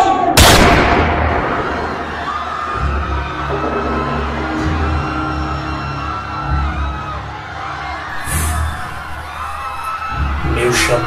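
Gunshot blasts in a dramatic Brazilian film scene: one sharp loud bang near the start, then a tense mix of voices, shouts and low rumbling effects, with a couple of further bursts later.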